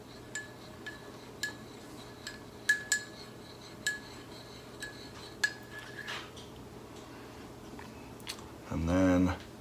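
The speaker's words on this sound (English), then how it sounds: "now I'm gonna stir this up" Spoon stirring honey into a cup of turmeric tea, a series of light metallic clinks against the cup spaced through the stretch, with a brief louder rustle near the end, no talk.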